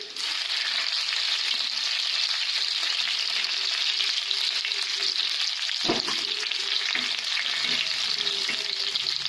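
Cumin, garlic and chili frying in oil for a hadga flower vegetable dish, a bright steady sizzle throughout with a couple of clear stirring knocks in the later part; no voices.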